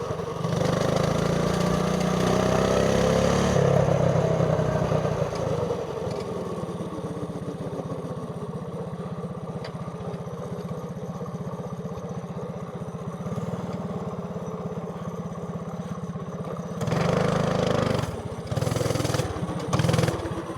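Mini bike engine idling and running close up, with its pitch rising and falling and a few short blips of revving near the end; no talking.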